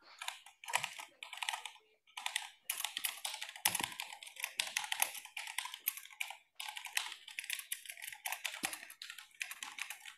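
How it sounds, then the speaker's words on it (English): Rapid, irregular clatter of keys on a computer keyboard, close and steady throughout with brief pauses, recorded during a classroom workshop. "What are you typing, Davi?"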